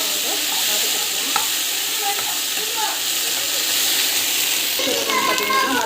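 Ingredients sautéing in a hot pan, a loud continuous hissing sizzle with occasional stirring scrapes close by, no one speaking over it.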